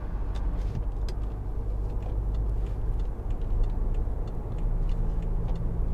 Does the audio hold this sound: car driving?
yes